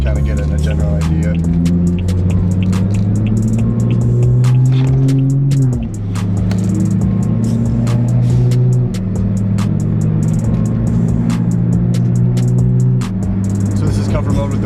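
BMW F30 335i with a complete straight-pipe exhaust in comfort mode around 2,000 RPM, heard from inside with windows down: a deep droning hum that steps up and down through shifts, with clicking and rattles over it.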